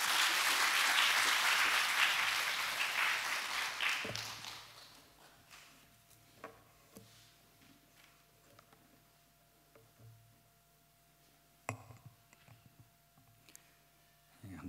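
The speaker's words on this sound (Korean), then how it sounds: "나오실 때 박수로 환영하겠습니다." A church congregation at a Sunday worship service claps in dense, fairly loud applause for the first four seconds, then it fades into quiet room noise with scattered taps and footsteps.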